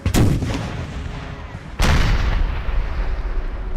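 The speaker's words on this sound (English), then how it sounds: "give the artillery the job to pound those guys away" Two heavy artillery blasts boom in the PC strategy game Empire: Imperial Splendour, each a sharp loud report trailing into a rumbling roar.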